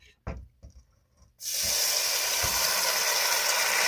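Corn frying in a pan with bacon for Southern-style fried corn, a loud steady sizzle and hiss that bursts in after a few soft knocks and clatters and then holds without a break.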